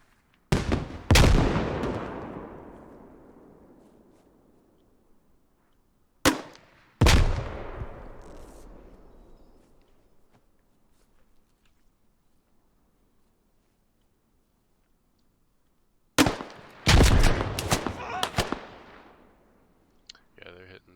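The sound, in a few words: grenade explosion and gunfire in military simulation game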